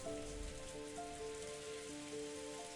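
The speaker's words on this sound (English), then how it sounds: "she was wrapped in the soft sound of the rain" Soft rain falls in a steady, even hiss with light patter, joined by faint sustained musical tones.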